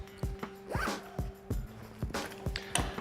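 Repeated zipping of a rugged zipper on a ThinkTank camera bag, several quick pulls in a row with short gaps between them, heard up close and clear with no talking over them.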